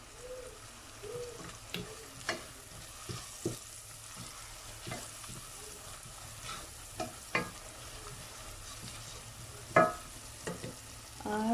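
Three green chilies hit hot oil in a pan and fry with a steady close sizzle, punctuated by repeated scraping stirs and light clinks of the utensil against the pot.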